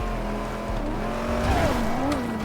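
A 2025 Chevrolet Corvette C8 ZR1 Yenko slides with a steady engine drone and rising tire squeal, loud and close throughout.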